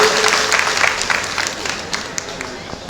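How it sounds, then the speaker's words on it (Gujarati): A crowd gives hearty applause at a retirement honoring ceremony for a bus conductor at the Vadnagar ST depot: dense, close clapping that starts loud and gradually thins and fades, with voices mixed in. "એક વખત જોરદાર તાળીઓથી વધાવી દઈએ"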